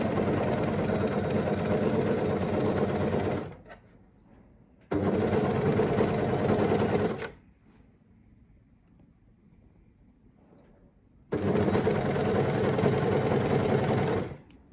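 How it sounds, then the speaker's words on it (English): Cover-stitch sewing machine running in three steady loud bursts as it stitches the lining seam of a swimsuit front, separated by short quiet pauses, with no voices. "we are sewing along the lining with the seam."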